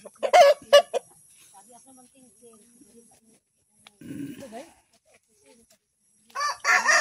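A rooster crows loudly up close in a chicken house on a farm, then quieter clucks and chicken calls follow, with another loud crow at the end.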